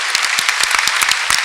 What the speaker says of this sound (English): I'd like to ask for a round of applause for this panel.